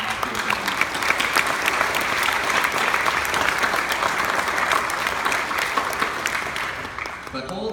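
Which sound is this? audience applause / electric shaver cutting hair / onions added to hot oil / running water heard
audience applause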